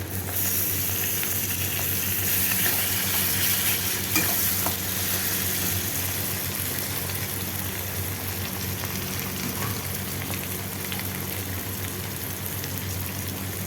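Chopped tomato sizzling and frying with onion in a pan for a vegetarian dish, a steady dense crackle with occasional stirring scrapes, close and continuous throughout with no talking.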